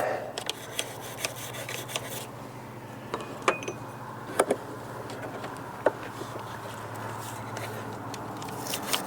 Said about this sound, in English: And while we're holding that open, we scrub our flapper.